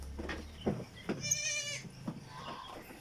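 A newborn goat gives a thin, wavering bleat amid a few other short animal calls, close by in a quiet setting.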